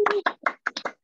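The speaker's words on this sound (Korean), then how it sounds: "일단 박수 한번 시작할까요, 우리?" Members of a small book club meeting clap together, six short separate bursts of hand claps close to the microphone, with silence between them.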